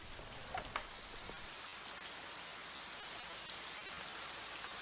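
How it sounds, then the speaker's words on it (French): Steady rain hisses evenly in a broadband wash over a Dungeons & Dragons session set in Barovie, with a couple of faint drip-like taps early on and no talking. "il commence à se mettre à pleuvoir."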